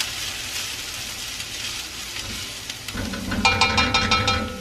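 Onions sizzle in a hot pan for homemade spaghetti sauce, a soft steady hiss that turns louder and crackly near the end as they cook.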